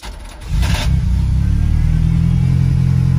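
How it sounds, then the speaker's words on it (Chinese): A 1983 Ferrari 308 engine, just fitted with a replacement fuel tank, cranks briefly, catches and settles into a loud, close, steady rumbling idle with slight revving. "启动车子试试看更换油箱后发动机能否正常运行"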